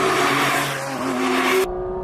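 A Porsche GT4 RS with a PDK gearbox pulls hard along an Italian mountain road, its loud, close engine note droning with shifting tones before cutting off abruptly near the end; nobody talks.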